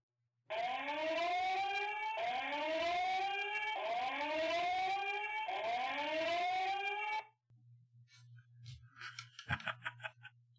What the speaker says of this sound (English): let's activate it again because I turned that siren on